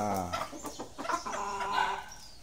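A White Albany gamefowl rooster clucks and calls in a series of close, throaty bursts, with a brief crow-like cry near the end.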